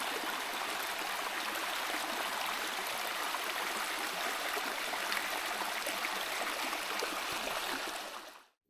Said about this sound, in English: Little creek down here.